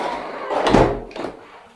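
A door swings open for someone calling at a home, a dull knock-like thump and rattle followed by a softer second bump, close by with faint room noise.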